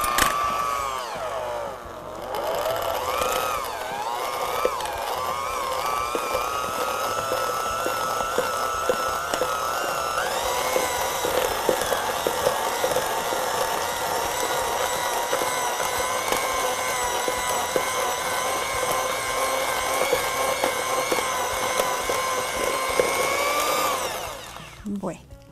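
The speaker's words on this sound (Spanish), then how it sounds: "Entonces vamos a llevar a la batidora" An electric stand mixer beats butter for mantecada, its motor whine rising and wavering steadily for about twenty seconds before stopping abruptly near the end.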